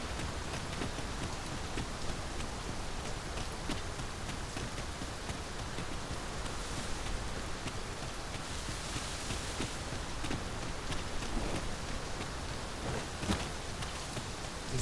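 Steady rain falls continuously in the video game Dragon's Dogma II, a dense hiss of drops pattering on surfaces with no voices, even and moderately loud throughout.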